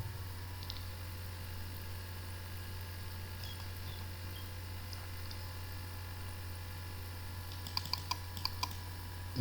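Quick soft taps of fingers keying numbers into a calculator, a short cluster of light clicks near the end over a steady low hum, with no voices.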